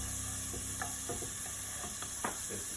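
Sweet potato flatbread cooking in a hot pan: a faint, steady sizzle with scattered soft ticks and scrapes, quiet and close, no voices.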